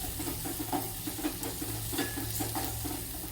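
Ingredients for hot and sour soup sautéing in a pan, a steady close sizzle with soft scraping stirs and occasional utensil clinks against the pan.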